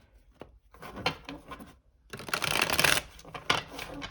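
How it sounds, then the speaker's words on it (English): Tarot cards are shuffled in quick riffling bursts, a lighter flutter first and then a louder, denser cascade, close up with no talking. "Do one last shuffle"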